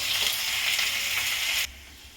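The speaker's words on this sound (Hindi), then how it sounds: "प्याज अब हाई फ्लेम कर रही हूँ, इसे मैं थोड़ा भून लेती हूँ।" Onions frying over a high flame for chicken litti give a loud, steady, close hiss that cuts off sharply near the end, leaving quieter noise.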